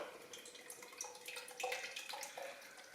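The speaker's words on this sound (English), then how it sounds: "So let's crack open this can and give it a pour." Beer poured from a freshly opened can into a glass, a quiet liquid splashing and fizzing stream with soft bubbling and gurgles throughout, no talking.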